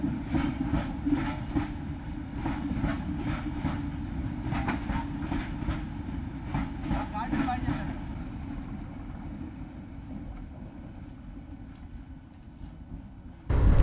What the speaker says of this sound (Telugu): ఇది అరకులో ఉన్న తేడా రైల్వే స్టేషన్.